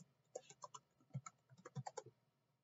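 Keys clack softly on a computer keyboard as a short word is typed, a quick uneven run of close, faint taps lasting under three seconds.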